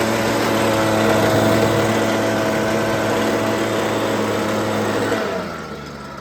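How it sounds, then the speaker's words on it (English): A leaf blower runs loud and steady close by, blasting dust away beside a tractor on a cattle farm, with a strong tonal engine drone that cuts off and winds down near the end. "Gonna use the blower, I think, the leaf blower."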